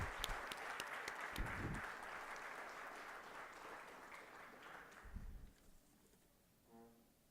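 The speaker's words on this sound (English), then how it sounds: "can we have a huge round of applause for all the innovators?" Broad, steady applause from an audience at the launch event of an Indian 6G alliance, honouring innovators and fading out after about five seconds, with faint chirping at the end.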